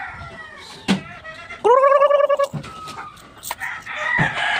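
Chickens cluck and squawk close by in a backyard, bursts of loud clucking and a drawn-out call amid scattered rustling, with no talk.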